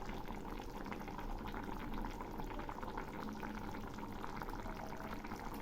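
A Bengali silver carp fish curry bubbles in a pot, producing a soft, steady, continuous simmering burble heard close and alone, without speech.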